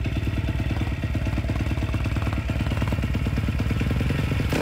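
Freshly rebuilt 140cc drift bike engine idling on its first start, a steady, close, rhythmic mechanical putter with clattering overtones, constant in level and heard alone without voices.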